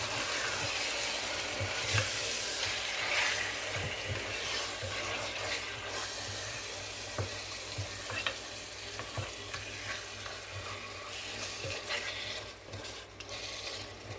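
Mutton is stirred in a hot, sizzling pot for spicy Indian biryani, with a constant loud frying hiss and repeated scraping strokes of the spoon, close and without voices.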